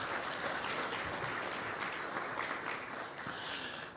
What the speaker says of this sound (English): please get a round of applause for our water expert